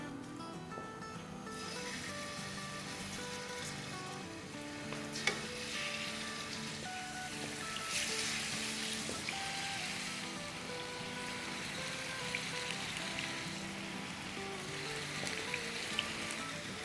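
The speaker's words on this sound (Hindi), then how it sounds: "और जो चिकन हमने मैरिनेट की थी इसे हम फ्राई करने के लिए डाल देंगे।" Marinated chicken sizzles and crackles in hot oil in a pan for Kashmiri chicken masala, a steady close frying hiss with occasional stirring clinks and no talking.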